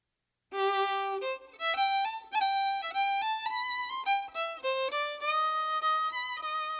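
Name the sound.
fiddle playing a melody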